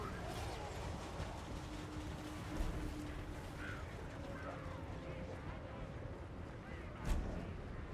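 Distant gunfire and artillery rumble through a Total War: Warhammer 3 battle, a dense, steady wash of battlefield noise with scattered thumps and one sharper blast near the end, with no talk over it.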